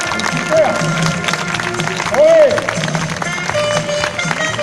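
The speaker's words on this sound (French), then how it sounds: "sous vos applaudissements" Applause from a crowd at a confrérie Grand Chapitre ceremony in the Nîmes arena, steady dense clapping throughout with voices and a few calls mixed in.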